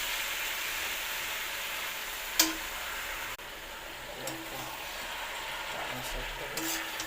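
Steady sizzle of spinach frying in a pan while it is stirred, a continuous hiss with a few light scrapes and clicks of the utensil.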